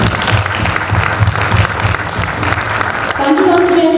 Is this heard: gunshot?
no